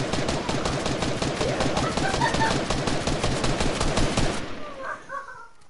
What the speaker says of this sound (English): I'm gonna try to shoot him with my sniper